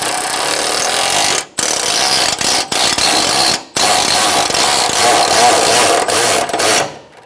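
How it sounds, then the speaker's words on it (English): A ratchet with an 8 mm socket tightens a bracket bolt during an AC condenser replacement on a 1998–2011 Ford Ranger 3.0L V6, rapid clicking bursts broken by short pauses, close and loud. "Using an 8 millimeter socket, we're gonna tighten up this bracket."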